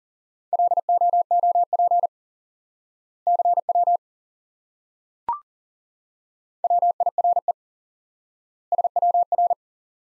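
Morse code CW tone: short and long beeps of a single steady pitch come in four separate bursts over silence, with one brief click in the middle.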